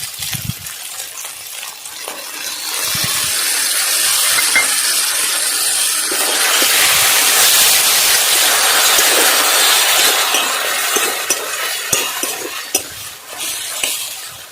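Tomatoes hit a hot frying pan with a loud, bright sizzle and hiss that builds and holds, broken by scraping and clinking from stirring with a utensil, ending in scattered taps.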